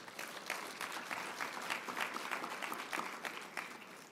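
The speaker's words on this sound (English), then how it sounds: "Let's give him a big round of applause." A conference audience at an African American Mayors Association kick-off session gives a sustained round of applause, a dense, even wash of clapping that holds steady for several seconds with no voices on top.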